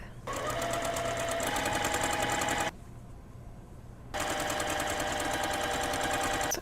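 Sewing machine stitching a puffy off-shoulder sleeve, a steady fast whirring hum running close and loud, pausing for about a second and a half before resuming.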